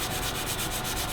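A cheap Chiltern Studios colored pencil scratches across paper up close in a continuous, gritty rubbing stroke with a faint pulsing rhythm.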